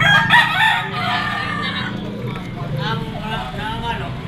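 A yellow-legged Kelso rooster crows at a gamefowl market, a loud crow near the start and then fainter clucks and crowing among nearby voices.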